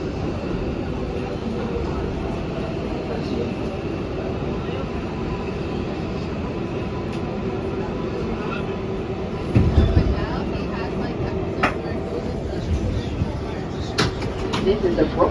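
An NYC Subway R142A car on a Brooklyn Bridge-bound 6 train riding between stations, a continuous steady rumble with occasional clanks and rattles, heard from inside the car under a recorded announcement voice.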